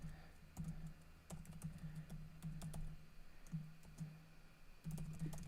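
Quick, steady keystrokes rattle on a computer keyboard while a name and email address are entered, with soft, close clicks running in bursts with short pauses between them.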